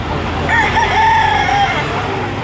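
A rooster crows once in a drawn-out call at a busy gamefowl market, rising over a constant loud hum of crowd and traffic noise.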